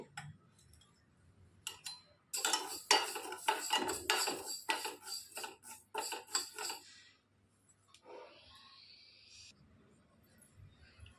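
About a tablespoon of fenugreek seeds dry-roasting in a kadai for red chilli pickle, with bursts of metallic spoon clatter and scraping up close, then a quieter stretch.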